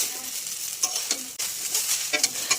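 Chow mein stir-fried in a pan with onion, salt, turmeric and fried egg, producing a loud close sizzle broken by scraping stirs and clattering spatula strokes.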